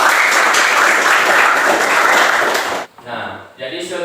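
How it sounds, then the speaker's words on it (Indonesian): A class claps and cheers together in a loud, dense burst of applause lasting nearly three seconds, then cuts off abruptly as a teacher's voice begins speaking. "Aplaus."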